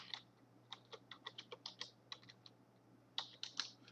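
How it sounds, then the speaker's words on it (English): Quick, light keystrokes on a computer keyboard, a run of about a dozen clicks followed by a brief pause and a few more taps, faint and close with no voices. "then type in Cloudflare"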